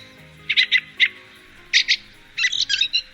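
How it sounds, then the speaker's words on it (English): A fieldfare (Turdus pilaris) gives repeated harsh chattering calls in short bursts of two or three notes, clear and fairly close against a quiet background. "It's Turdus pilaris, the fieldfare"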